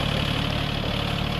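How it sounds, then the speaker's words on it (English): A tractor fitted with a box blade runs steadily nearby, its engine idling in an even mid-to-low rumble with no speech. "I'm getting the tractor over here on the other side"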